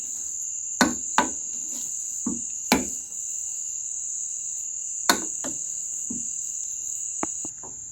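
Cooked potatoes being mashed for a cottage pie with a makeshift utensil instead of a masher, outdoors in a village: a handful of sharp, irregular knocks and thumps over a steady, loud chorus of chirping crickets.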